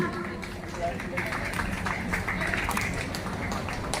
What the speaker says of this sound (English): Everyone, please give her a thunderous applause.